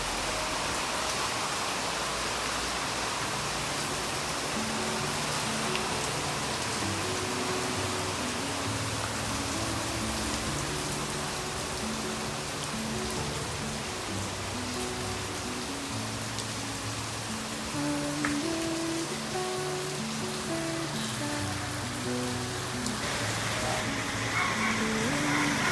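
Heavy rain hisses steadily throughout in Bạc Liêu, Vietnam, a dense continuous downpour with a voice talking faintly underneath.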